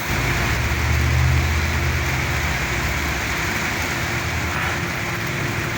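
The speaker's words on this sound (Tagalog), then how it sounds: "Ang lakas ng ulan, no?" Heavy rain pouring down on a construction site where roof trusses are being built, a loud, dense, continuous hiss with a low rumble underneath, no voices.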